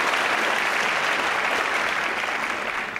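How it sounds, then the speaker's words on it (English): Applause for dancers at a Richmond charity dance competition, a dense, even roar of many clapping hands that holds steady throughout and tapers slightly at the end. "so a round of applause"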